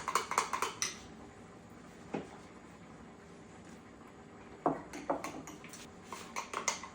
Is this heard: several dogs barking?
no